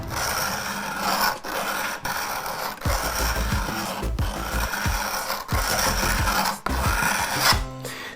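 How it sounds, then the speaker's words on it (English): A woodcarving tool is rotated and rubbed against a sharpening stone, making a steady rasping scrape in repeated strokes with short pauses between passes, close and fairly loud with no talk. "I'm starting at one side, and watch as I rotate the tool on the stone"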